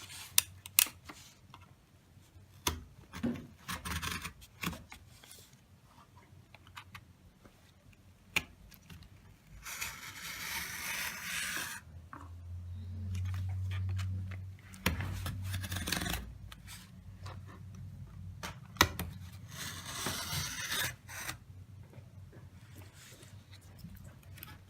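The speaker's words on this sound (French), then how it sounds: "vous devez découper des formes comme ça dans du carton" Cardboard being cut into shapes over a protective underlay: scattered short scraping and snipping strokes with clicks, plus two longer stretches of steady rasping cutting, all close and fairly quiet.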